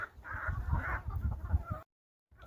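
Chickens on a homestead in Africa cluck close by in a busy, uneven run of calls that cuts off briefly near the end before resuming faintly.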